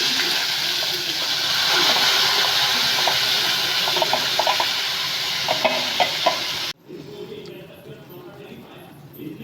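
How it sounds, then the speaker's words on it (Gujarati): Crushed tomato and onion hit hot tempering oil with mustard seeds, cumin and asafoetida, a steady loud sizzle with clicks of stirring that cuts off sharply, leaving only a faint hiss. "ટામેટાં અને ડુંગળી ક્રશ કરી છે તે આપણે હવે વઘારમાં નાખીશું."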